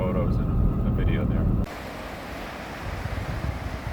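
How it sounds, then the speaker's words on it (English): Small waterfall spilling over a little dam in a national forest area, heard as a steady broadband rush of water mixed with strong gusting wind buffeting the microphone, which drops abruptly partway through while the water noise continues. "it's a little waterfall, a little dam,"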